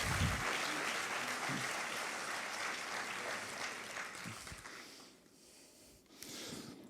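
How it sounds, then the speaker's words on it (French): Audience applause at a CJD Val d'Oise business event as students are called on stage for diplomas: dense, sustained clapping that fills the room, then thins and fades near the end with a brief final swell. "Je vous demande de les applaudir et je voudrais qu'elles montent sur scène."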